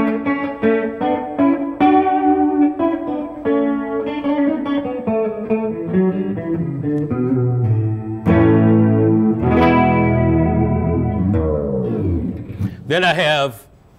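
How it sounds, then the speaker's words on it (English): An electric guitar played through a chorus pedal, sustained chords and notes with a shimmering, doubled, slightly wavering tone, loud and close, ending in a bend and abrupt cutoff. "Then I have a chorus pedal."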